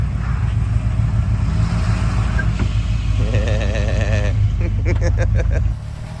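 A Jeep Liberty without lockers working up an off-road trail, its engine droning steadily and rising in pitch as it revs, with a wavering whine and rattling clicks from the drivetrain near the end.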